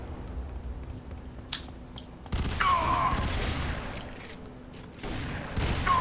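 Shotgun blasts from enemy soldiers in the first-person shooter F.E.A.R. 3, sharp bursts over a rumbling game soundscape, with a couple of short metallic clicks before a louder stretch of gunfire.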